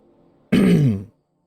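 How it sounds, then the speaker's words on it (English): A single short, gruff throat clearing, close and loud, followed by silence. "sorry I have to keep clearing my throat"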